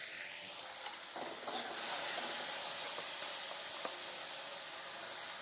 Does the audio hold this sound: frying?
yes